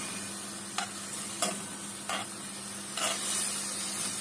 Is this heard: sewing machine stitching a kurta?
no